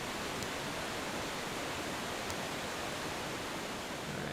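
In Castlevania: Lords of Shadow, water pours steadily from a stone statue's nose, a soft, even, continuous rush like a small fountain with no voices.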